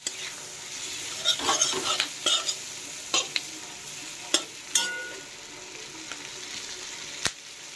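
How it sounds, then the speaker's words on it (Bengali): Onions dropped into a hot pan with chillies and egg, giving a faint steady sizzle broken by a few sharp scraping stirs and clinks of the spatula, heard close up. "এবার এর মধ্যে আমি দিচ্ছি পেঁয়াজ"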